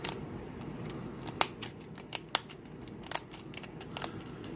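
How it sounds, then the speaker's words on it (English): Kitchen scissors snip along the shell seam of a lobster before oven baking, giving crisp, faint clicks and cracks at irregular intervals, with a few sharper snaps, no voices. "we're going to take our scissors and we're going to end up cutting right down the seam"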